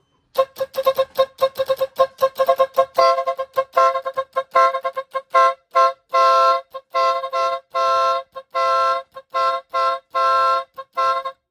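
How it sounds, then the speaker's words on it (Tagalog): A small car horn honks over and over, first in rapid short taps, then in longer blasts, loud and close. "Nasa busina to, nandirito to. Nasa compact horn to. Mahina siya."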